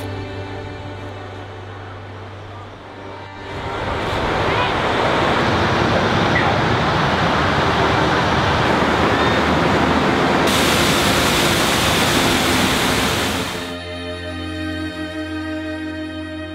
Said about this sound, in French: la cascade est toujours aussi belle, car c'est le matin